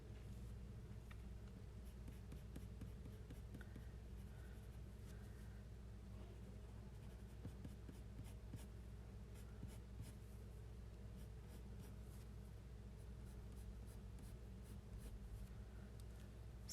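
Colored pencil shading on paper while drawing red hair, a faint, continuous fine scratching of short repeated strokes, steady and close, with no talking.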